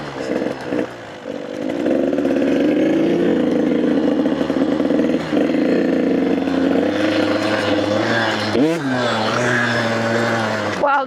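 A large dirt bike engine drones steadily and loud while riding a small pit bike track, holding a buzzing tone with a sharp rev swell near the end, close up, with a rider's voice breaking in briefly.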